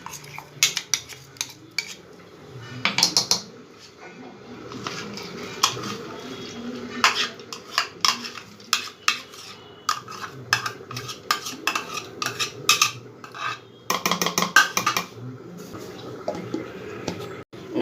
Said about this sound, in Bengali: বাকি ডালটাও ঠিক আমি একইভাবে পিষে নেব।